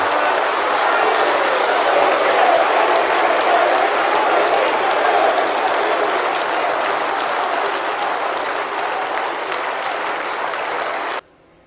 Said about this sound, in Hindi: हम सब खड़े होकर प्रधानमंत्री जी के सम्मान में ढेर सारी तालियां बजाकर